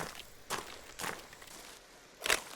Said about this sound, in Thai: เสียงคนเดินบนเนิน